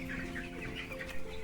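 Chickens on a poultry farm give soft overlapping clucks and murmuring calls over a brief moment, faint and fairly close, with one slightly louder bump near the end.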